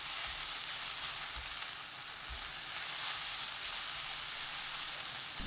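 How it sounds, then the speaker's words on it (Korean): Tofu and cucumber stir-fry over high heat, giving a dense, steady sizzle with faint scraping stirs underneath, close and even throughout. "오이 넣고 센 불로 1분 볶습니다."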